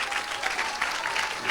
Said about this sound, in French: Somebody clap for Jesus Christ.